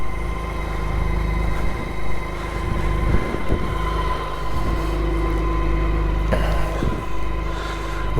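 Motorcycle engine running steadily at close range after a major service, a smooth continuous idle hum with a few faint clicks and knocks.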